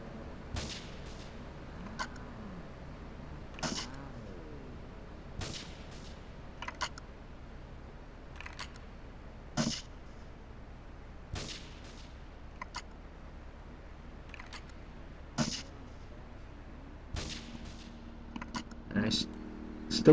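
Sniper rifle shots in GTA III ring out as sharp, isolated cracks at irregular intervals, with other brief game noises and a low steady hum between them.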